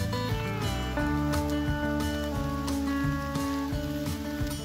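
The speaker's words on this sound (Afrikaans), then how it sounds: "ek hoop jy kan dit sien, maar dit reën te pragtig" Rain patters steadily on a surface at a wild camp in Mkushi, Zambia, falling while the sun shines; a continuous close hiss with no talk over it.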